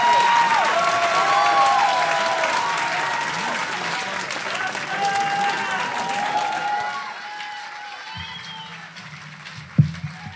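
Sustained applause from a concert audience, a thick, continuous clapping that tapers off, giving way to quieter room sound and a brief thump near the end.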